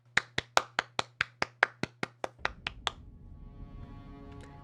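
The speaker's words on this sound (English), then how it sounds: "Clap." A person claps their hands about a dozen times in a quick, steady rhythm, close and crisp. The clapping stops and gives way to quiet video game background sound.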